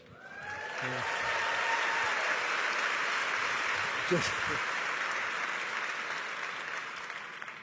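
A large audience at a book festival claps steadily for several seconds in a hall. The applause swells quickly, holds as a dense wash, and then slowly thins out.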